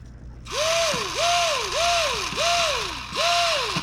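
The motor and servos of an XK A210 T-28 Trojan RC airplane whir up and down in five repeated swooping cycles, close and fairly loud over a steady high electric whine.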